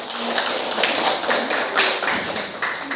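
Classroom applause for a correct answer, a dense burst of many hands clapping that runs throughout at close range, with no talk.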